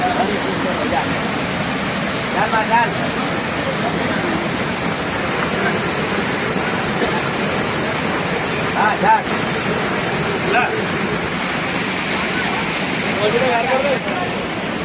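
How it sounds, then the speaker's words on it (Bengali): A waterfall pours down the rocky clefts of a hillside, a steady, dense rushing roar that stays close and constant throughout, with voices faintly under it. "পাঁচটি লিঙ্গ পাহাড় খাঁজে ঝর্নার জল পড়ছে"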